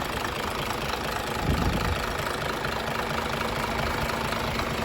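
An Isuzu Forward truck's diesel engine idles steadily throughout, a low rumbling drone with a faint knocking texture and a brief louder bump near the start.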